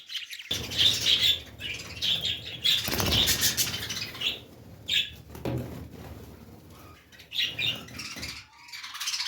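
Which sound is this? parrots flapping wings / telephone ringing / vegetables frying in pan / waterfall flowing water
parrots flapping wings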